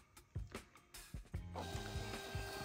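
A portable Bluetooth 58mm thermal receipt printer gives a few ticks and clicks, then runs into a steady, close whirring feed as it prints, with no speech over it.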